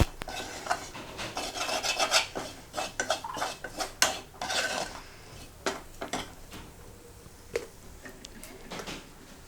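Crab roast masala being stirred in a pan, a busy run of scraping and rasping spoon strokes against metal with clinks, easing off toward the end, no talk.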